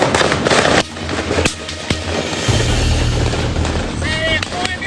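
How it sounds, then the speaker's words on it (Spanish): Gunfire in a violent Mexican street shootout: sharp, loud cracking reports, some in quick bursts, ring out over a noisy background, with voices talking and shouting through the sharp bangs. "Esos son balazos"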